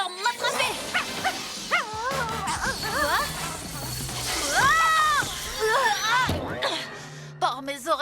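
A cartoon dog barks and howls in a French kids' animated episode, the yelps mixing with splashy effects and music, with character voices talking over much of it.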